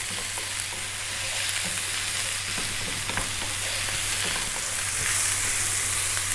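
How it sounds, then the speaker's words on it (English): Ginger garlic paste is stir-fried on high heat with constant stirring, a loud, close crackling sizzle with frequent utensil scrapes throughout, over a low steady hum and no speech. "keep it moving constantly now because you've put the ginger garlic paste in, otherwise it will burn"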